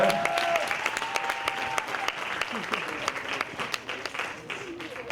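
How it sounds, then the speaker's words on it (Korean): An audience at a Korean mentoring talk concert applauds steadily, a dense wash of many hands clapping with sharp individual claps standing out. The applause runs for about five seconds at moderate distance, and there is no talk over it. "박수 한번 주세요."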